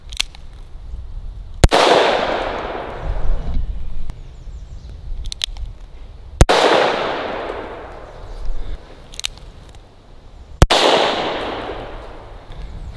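Three loud, sharp shots from a Smith & Wesson Governor revolver firing CCI number 4 shotshells in 45 Colt, spaced several seconds apart, each with a long ringing echo and quieter handling noise between shots.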